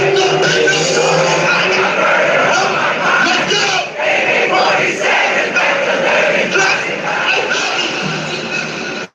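Concert crowd at a rap show loudly singing along to hit songs, a dense roaring mass of voices filling the whole stretch before cutting off abruptly.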